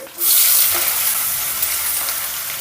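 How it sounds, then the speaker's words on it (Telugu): Sliced onion, green chilli pieces and curry leaves frying in hot oil in a pan make a steady, loud sizzle that starts abruptly and holds for a couple of seconds, with no talk over it. "ఇప్పుడు వీటిని ఒక నిమిషం పాటు దోరగా వేయించుకుందామండి"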